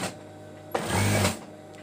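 A sewing machine stitches a band on a bed skirt, a short close burst of motor whirr after a quiet start, then easing off.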